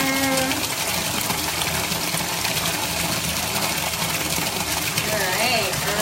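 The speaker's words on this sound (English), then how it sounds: "Alright, we're almost got enough water in here." Water pours steadily into a bathtub with a constant rushing, gushing roar throughout, while people talk over it now and then.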